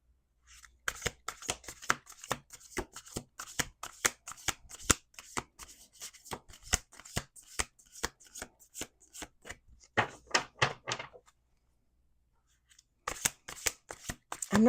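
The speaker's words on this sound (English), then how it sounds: "Let's do 2 more shuffles." A deck of tarot cards is shuffled by hand in quick bursts of crisp riffling and slapping, close and loud, with a pause of silence before a final fast shuffle.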